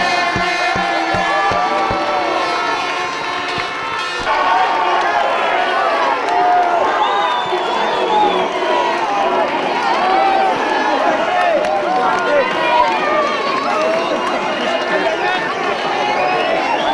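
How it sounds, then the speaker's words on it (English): A speedway crowd at Wimborne Road roars and cheers as Poole Pirates win the 2008 Elite League Final, a dense, sustained wash of voices and shouts with a commentator talking over it. "what the scenes of celebration here amongst the crowd"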